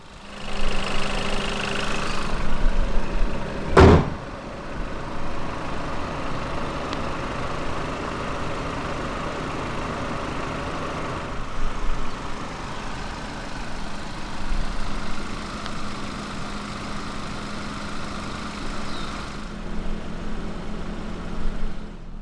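A 2013 Volkswagen Beetle with a 1.4 TSI engine cranks briefly, catches with a sharp burst, then settles into a steady, smooth idle that hums on without pause and with no talking.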